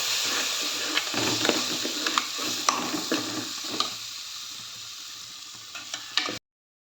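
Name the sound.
coriander powder being sautéed and stirred for egg curry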